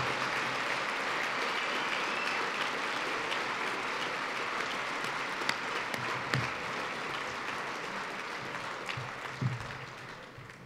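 An audience applauding at an academy banquet, a dense, steady wash of clapping hands lasting the whole stretch and tapering slightly at the end, with no voices over it.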